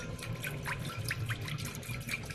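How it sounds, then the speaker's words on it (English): Chicken broth trickles and splashes steadily into a pot, with small bubbling drips over a low background hum. "I'm going to pour 16 ounces of chicken broth into here"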